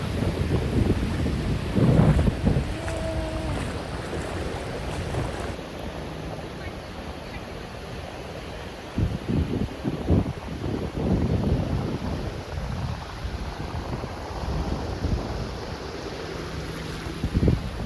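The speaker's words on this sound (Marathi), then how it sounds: "इथले लाटा खूप शांत आहेत" Calm sea waves wash gently onto a beach in a soft, continuous surf wash, mixed with gusts of wind buffeting the microphone and a few faint background voices.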